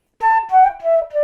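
Flute playing four short descending eighth notes from O Christmas Tree, clear and close, each note breathy and evenly spaced.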